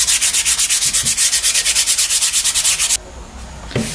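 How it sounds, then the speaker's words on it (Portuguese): Steady rhythmic strokes of sandpaper hand-sanding a decoupage piece, rubbing back and forth, loud and close, about six per second, then stopping into a quiet hiss. "vou dar uma lixadinha aqui"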